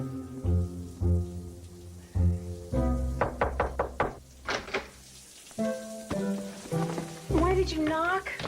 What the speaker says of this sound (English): Why did you knock?